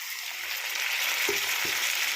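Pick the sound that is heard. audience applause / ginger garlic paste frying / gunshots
ginger garlic paste frying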